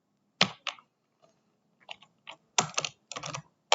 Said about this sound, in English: so that's why you hear the keyboard clacking.